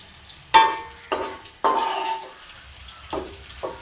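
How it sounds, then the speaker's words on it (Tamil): Spices tempering in hot oil in a pan for a Jaffna-style jackfruit curry, with five sharp bursts of crackling sizzle as ingredients hit the oil or get stirred, each fading quickly, close and fairly loud. "தாளித்து நாங்கள் எடுக்க போகிறோம்."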